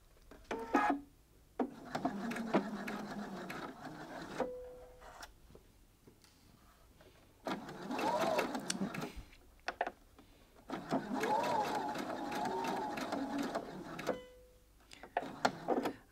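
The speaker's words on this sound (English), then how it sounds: "So I'm going to stitch that down with a 3/8 of an inch seam" A sewing machine stitches bias binding down with a 3/8-inch seam, running in several whirring bursts of a few seconds each separated by quiet pauses, with small clicks and taps between runs.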